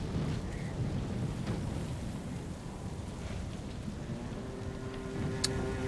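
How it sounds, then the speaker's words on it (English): Stormy ambience in Ghost of Tsushima: steady rain and low rolling thunder rumble on without a break as a storm builds, with a faint higher tone drifting through near the end. "The storm's coming."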